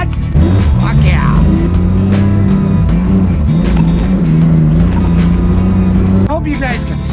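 An off-road vehicle on very wide tires driving, a loud continuous engine drone with shifting pitch running throughout, voices talking and shouting over it.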